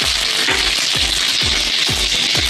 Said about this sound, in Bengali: এবার এর মধ্যে রাঁধুনি, শুকনো লঙ্কা আর তেজপাতা ফোড়ন দিয়ে দিলাম